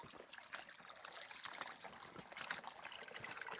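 Creek water flows and trickles continuously, a soft, close babbling wash with no talking.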